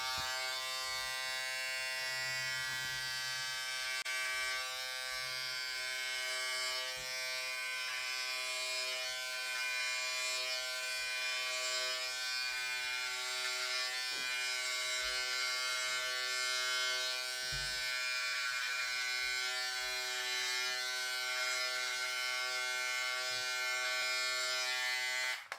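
A Philips Series 5000 beard trimmer (BT5502) runs with its 0.4 to 10 millimeter comb attached, giving a steady, close electric buzz that continues without a break.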